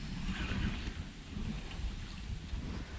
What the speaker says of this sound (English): It is windy, oh man.